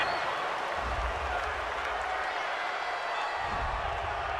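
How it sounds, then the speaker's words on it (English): A home crowd at a 2019 NFL game between the Cowboys and Jets cheers a penalty flag on third down, a broad steady roar of voices and applause that holds level throughout, with low rumbles rising near the start and again toward the end. "This home crowd, they're happy with that call."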